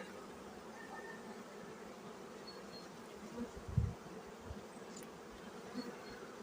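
Honey bees buzz steadily over frames at a spring hive inspection, a faint, continuous droning hum with a brief low thump partway through.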